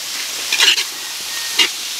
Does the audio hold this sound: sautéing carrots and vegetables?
yes